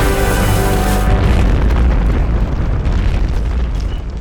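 A gigantic explosion destroys a bridge packed with troops, wagons and horses during the 1813 Battle of Leipzig: a sustained, loud, deep roaring boom that rumbles on without pause for several seconds.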